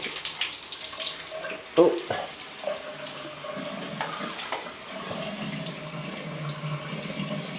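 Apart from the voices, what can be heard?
hotel rainfall shower running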